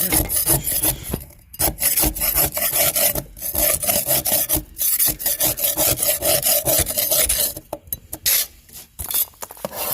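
Putty knife scraping steadily during servicing of a Country Clipper mower, a loud, close, continuous rasping with brief pauses and no talk.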